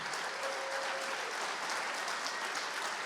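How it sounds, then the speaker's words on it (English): Audience applause at a St. Louis Sports Hall of Fame enshrinement, a sustained, even roar of clapping from a large crowd, filling the whole moment without any speech. "Please welcome to the St. Louis Sports Hall of Fame with your applause, Steven Jackson."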